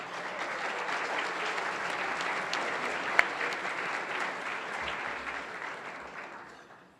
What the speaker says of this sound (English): Please join me with a warm round of applause for all of them.